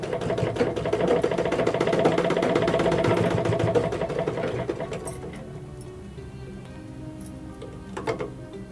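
A sewing machine stitching a blouse whirs with a rapid, even mechanical rhythm for several seconds, then stops, leaving quiet handling noises and a brief clatter near the end.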